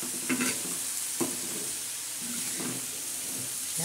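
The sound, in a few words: radish chutney being stirred on a hot griddle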